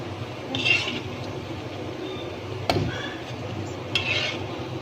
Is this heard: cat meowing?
no